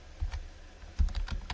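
Keys tapped on a computer keyboard while an email address is entered into a Google Calendar invite, a few quiet, scattered keystrokes in short bursts, close and soft.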